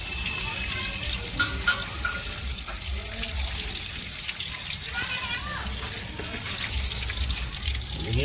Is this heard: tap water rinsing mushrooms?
yes